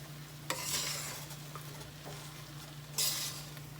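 Gunda (glue berry) vegetable curry stirred in a pan with oil, a steady sizzle beneath two sharp scraping strokes of the spoon, close and alone without talk.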